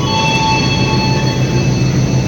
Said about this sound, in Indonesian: Ini dia kereta kita nih,